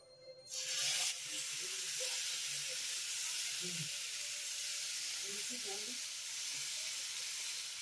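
Rice flour batter for chita roti sizzling on a lightly oiled pan over a very low gas flame, a steady soft hiss throughout with faint clinks of handling.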